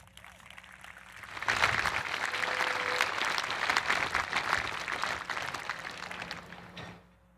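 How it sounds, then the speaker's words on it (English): Audience at a high school commencement claps for a teacher walking up to speak, the applause rising quickly, holding steady for several seconds, then fading out. "Please give a warm round of applause to Ms. Angela Bear."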